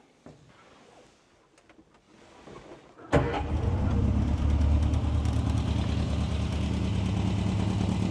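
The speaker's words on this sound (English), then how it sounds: "So now if we actually try to start it, you'll be able to hear the engine." After quiet fiddling, an Austin-Healey Sprite engine fitted with a new full exhaust and muffler bursts into life and settles into a loud, steady, throaty idle close by.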